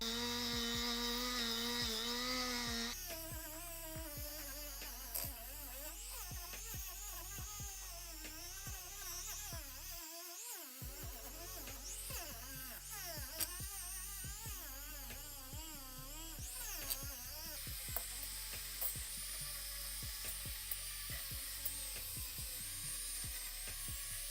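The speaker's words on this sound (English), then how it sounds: "So I'm going to bust out the Dremel tool with the brass wire cup." A Dremel rotary tool fitted with a brass wire cup whines and grinds against a motorcycle engine block to scrub off deposits, its pitch wavering steadily under a background of music.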